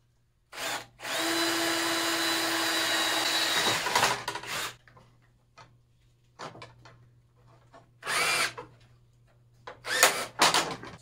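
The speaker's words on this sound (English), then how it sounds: "I'm going to use this as a guide for aligning my drilling." A power drill bores holes into the aluminum of a custom tool case: one long steady whine of about three seconds, then shorter bursts of drilling with quiet handling between them.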